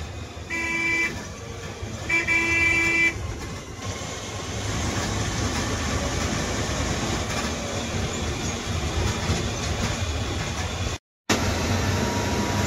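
Continuous engine and road rumble inside an MSRTC Shivshahi AC seater bus heading from Kolhapur city onto the NH4 highway, with a couple of horn toots early on and a brief dropout near the end.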